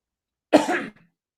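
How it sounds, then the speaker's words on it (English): A single short cough from one person, close and fairly loud, standing alone against otherwise silent background. "Who coughed?"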